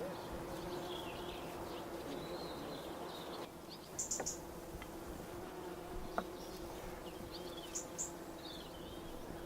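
Honeybees hum in a steady low drone around hives in an orchard, with a few faint bird chirps and small knocks over the top.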